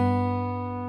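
A single plucked note on an acoustic guitar's second (B) string rings out clearly and close, sustaining and fading slowly over about a second with no voice.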